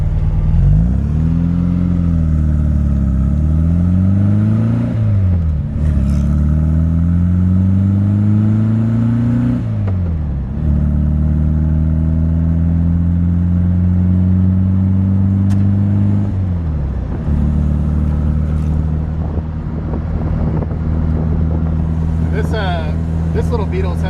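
A 1976 Volkswagen Beetle convertible, still slightly cold, drives off with its rebuilt engine humming steadily and rising and falling through several gear changes, loud and close throughout.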